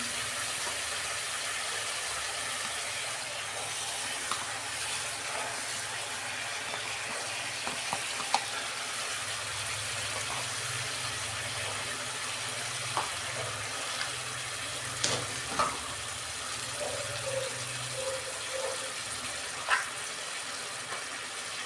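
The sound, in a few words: chicken frying with ginger garlic paste added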